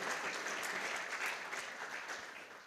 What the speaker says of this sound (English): I really request everyone to please applause for all these good work.